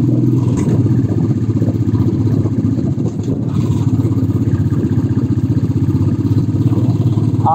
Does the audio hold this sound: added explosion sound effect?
no